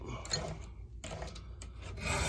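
A file rasps against a chainsaw chain in quiet, uneven strokes, several short scraping passes close by with brief gaps between them.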